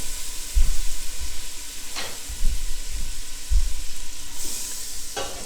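Butter melting and sizzling in a warm soup pot on the stove, a loud steady frying hiss with periodic low clunks of a stirring spoon, and no voices.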